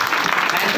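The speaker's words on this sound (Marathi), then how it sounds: "आता वाजवाना गावच्या जावईसाठी टाळ्या." Dense, continuous clapping from a village audience at a humorous kirtan performance, loud and close, filling the whole short moment without pause.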